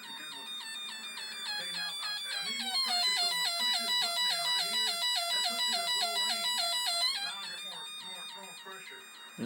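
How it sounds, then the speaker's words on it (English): Electronic siren from a soldered DIY kit, a loud warbling electronic wail rising and falling in rapid repeated sweeps for several seconds before stopping with a click. "a potentiometer right here, which turns up the siren"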